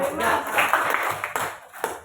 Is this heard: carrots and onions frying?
no